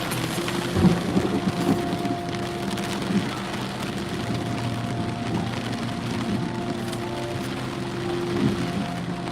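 A steady downpour of rain with low rumbling thunder rolling through during a thunderstorm, a heavier crack of thunder near the start, the rain holding as a constant wash throughout.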